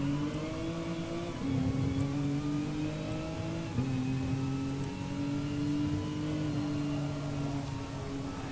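A GTC-1 race car engine heard from onboard at Autopolis in a racing game, droning loudly and steadily throughout with harmonic pitch rising and dropping through gear changes, alone without talk.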